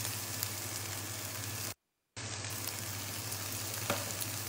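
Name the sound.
onion and garlic frying with spices in a pan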